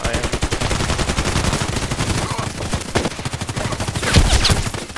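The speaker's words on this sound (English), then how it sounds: "he's shooting through the house" Gunfire in Contract Wars ripping through a house, with rapid sustained automatic fire that is loud and continuous for several seconds, followed by a sharper closer burst near the end.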